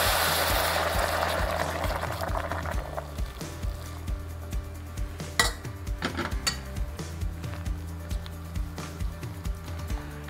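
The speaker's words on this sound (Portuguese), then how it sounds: "agora a gente vai colocar aqui em torno de 1 litro de água" About one litre of water poured into a cooking pot for zucchini broth, a rushing pour at the start that fades out, followed by light clinks of the pot and utensils.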